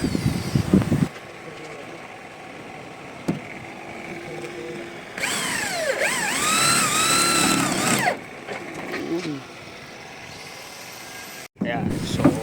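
A power drill pre-drills holes through slab formwork into a runner, whining in a sustained burst mid-clip amid construction-site clatter, with people talking around it.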